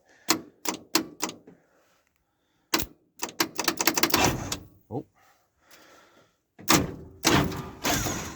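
Starter on a 1978 Dodge Stepside long-bed pickup, heard as sharp, close clicks and clunks: a quick burst of separate clicks, a pause, then denser clattering runs and a couple of heavier knocks, with no voices.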